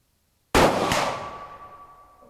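A Tikka T3X TAC A1 rifle in 6.5 Creedmoor fires once, a sharp loud report followed a moment later by the ringing clang of the metal target that fades slowly.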